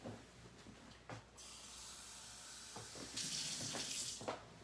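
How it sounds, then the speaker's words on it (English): Kitchen tap running water into a small container, a steady splashing hiss with a few brief knocks and a slight rise in pitch as the flow changes, quiet and nearby. "I'm going to get down a little container and I'm going to put some water in it."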